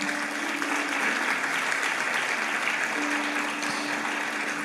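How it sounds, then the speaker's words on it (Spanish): Church congregation breaking into a strong, sustained round of applause during a sermon, dense and even throughout with a faint steady tone underneath and no talking. "Denle un fuerte aplauso al Señor, por favor."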